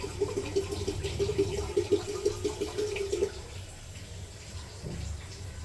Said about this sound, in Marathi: चला कळशीभर तर पाणी आलं.